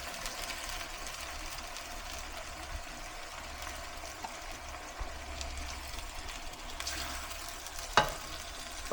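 Mackerel frying in chili paste for asam pedas, a steady dense sizzle and bubbling throughout with a brief clatter near the end.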